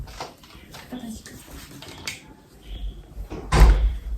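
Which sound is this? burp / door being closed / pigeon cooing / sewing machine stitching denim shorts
door being closed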